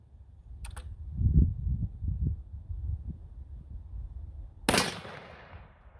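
One loud, close gunshot from a .454 Casull rifle with a 28-inch barrel during outdoor load testing, its blast decaying into a short echo, preceded by handling clicks and low rumbling.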